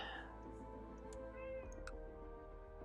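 A cat meows faintly and briefly behind steady background music, with a short higher mew following.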